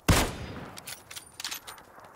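One loud close gunshot cracks in the PUBG battle royale video game. A series of fainter, distant shots follows in scattered bursts.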